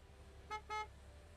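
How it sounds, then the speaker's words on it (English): A car horn gives two quick close honks in a gas station simulator video game, over a low steady hum. "Don't honk at me."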